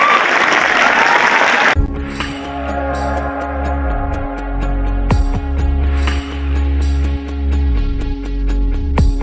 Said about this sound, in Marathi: कामिनाचं पुन्हा एकदा आपण सर्व जोरदार टाळ्या वाजवून स्वागत करूया.